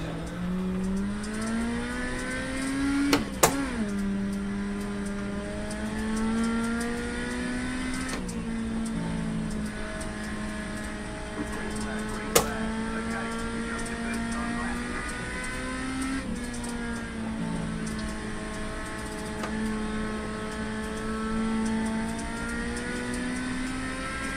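A race car engine in an iRacing simulator qualifying lap holds a steady high drone, its pitch rising and falling through gear shifts and corners over a long stretch, with a brief sharp click partway through.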